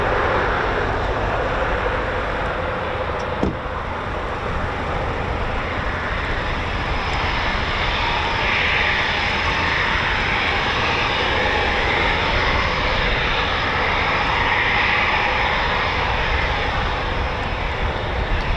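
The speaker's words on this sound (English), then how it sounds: "321's been doing a bit of practice taxi out" An RAF Eurofighter Typhoon FGR4 from 29 Squadron taxis out on a training station, a loud, steady jet engine whine and roar held continuously with a slight swelling hiss, heard from fairly close.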